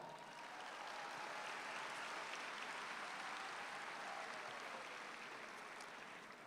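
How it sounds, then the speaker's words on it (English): Sustained applause from a graduation ceremony audience honoring student speakers, a steady dense wash of clapping at even loudness throughout with no talk over it. "Round of applause for them all."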